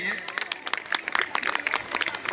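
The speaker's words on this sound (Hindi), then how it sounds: "जोरदार ताली बजाइए" Audience at a large women's empowerment event in Uttar Pradesh clapping loudly to welcome an arriving guest, dense irregular bursts of hand claps close by with voices talking over them.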